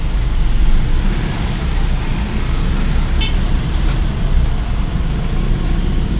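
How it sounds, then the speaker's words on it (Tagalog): Dense holiday road traffic on the way to San Mateo, Rizal: a loud, continuous roar of passing cars, buses and trucks, with a brief horn toot near the middle. "kahit holiday, traffic pa rin mga kabady."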